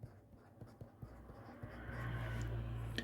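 Chalk or marker strokes on a classroom board during a Korean ethics lesson, a run of short, faint, irregular taps and scratches, followed by a steady low hum near the end.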